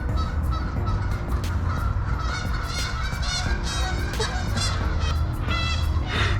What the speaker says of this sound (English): I think there's some duck drama happening.